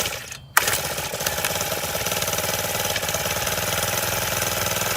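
A Mantis 7940 tiller's small engine is pull-started with a brief rope yank, then catches and settles into a steady, loud, continuous idle that runs evenly to the end, close by with no talk.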